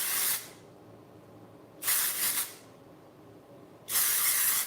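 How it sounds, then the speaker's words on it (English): Three bursts of hair texture spray hiss close by, each lasting under a second, with quiet gaps between them. "You spray it right at your roots,"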